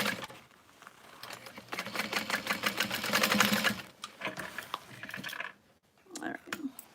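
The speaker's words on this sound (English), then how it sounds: "So I just trimmed my stitches out and I'm resewing it." A sewing machine restitching a handmade backpack runs in a fast, steady burst of rapid needle clatter for several seconds, then stops and restarts in shorter runs, fairly close and moderately loud, with a little talk at the end.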